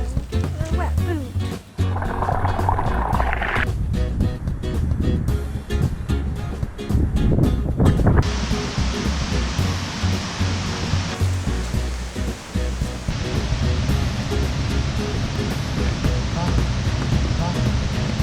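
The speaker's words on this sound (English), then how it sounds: "I can hear the water actually." The rushing water of Sgwd Yr Eira waterfall in South Wales makes a steady, distant broadband roar that grows more continuous over the second half. People talk over it while walking.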